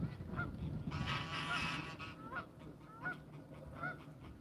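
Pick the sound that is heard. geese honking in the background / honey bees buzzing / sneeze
geese honking in the background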